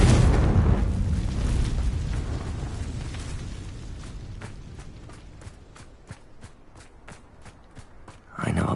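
Confringo fire-blast spells explode in the video game Hogwarts Legacy. A loud, close burst opens the sequence and fades into a long rumbling tail. A run of sharp footsteps follows, then a second heavy blast hits at the end.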